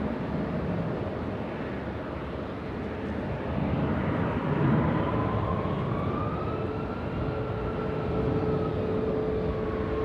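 An Embraer E175 jet taxis at LAX airport, its engines giving a steady broad roar with a faint rising and falling whine, heard from a distance with no talk.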